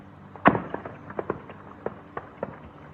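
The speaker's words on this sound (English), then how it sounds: "You can hear explosions in the distance." Distant explosions after strikes in Iraq come as a series of faint, sharp pops and thuds, one stronger blast followed by several smaller irregular bangs over a quiet background.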